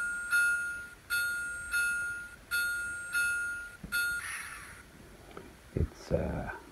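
A DCC sound decoder bell on an N scale Bachmann 0-6-0 model locomotive rings six evenly spaced, ringing strikes about two-thirds of a second apart, each fading before the next, followed by softer handling noises and a brief voice.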